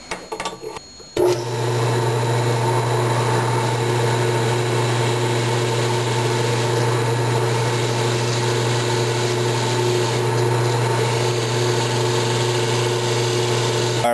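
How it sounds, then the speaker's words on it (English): After a short clatter, a drill starts up and runs with a steady, loud motor whine for the rest of the clip, close by and uninterrupted, drilling another hole in a metal gunsmithing bench block. "So we'll set this guy up again, and we'll drill another hole."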